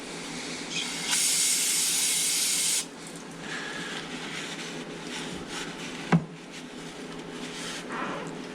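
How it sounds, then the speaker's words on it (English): Brake cleaner sprays onto the bearing surface of a rotor on a 1996 Dodge B2500 in a single close, loud hiss lasting about a second and a half. Quieter rustling and a sharp knock follow. "Hit it with some brake clean."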